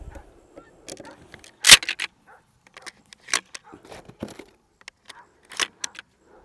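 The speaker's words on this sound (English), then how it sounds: "You can probably hear my dog barking when I'm up here this close to the house." A dog barks in short, scattered bursts close by, with the loudest bark near the start and several more following at irregular intervals amid quiet gaps and some jangling.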